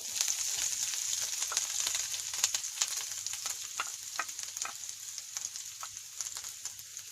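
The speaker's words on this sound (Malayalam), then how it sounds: "ആ നാളികേരും ചുവന്നുള്ളിയും പെരിഞ്ചീരകവും കുരുമുളകും ഒക്കെ നല്ലോണം വഴറ്റിയെടുക്കണം." Grated coconut, halved shallots, fennel seeds and black pepper fry in a pan for a soya chunk masala curry, a soft continuous sizzle broken by scattered crackles and scraping stirs, close up with no voices.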